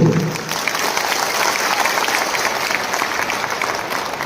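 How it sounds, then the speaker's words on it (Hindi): A large crowd at a political community gathering in Tripura claps loudly and continuously, a dense, close wash of applause that holds steady for several seconds with faint voices mixed in. "तो जोर से ताली दो"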